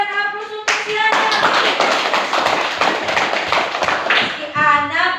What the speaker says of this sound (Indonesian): berikan aplaus untuk si anak